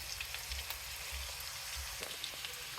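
Onions frying in a covered pan while cooking a fish curry, giving a steady, faint, close sizzle with small crackles throughout and no talking.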